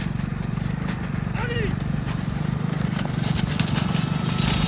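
Horses pull carts at a bullock and horse race in Mahal Ainapur, their hooves clip-clopping in a quick, continuous rhythm beside a running engine while someone talks over the noise and one brief whinny rises.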